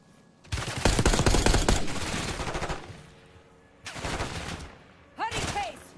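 Automatic gunfire in Call of Duty Black Ops 6 opens with a loud sustained burst, fades into echoing tail, then two shorter bursts follow, close and heavy.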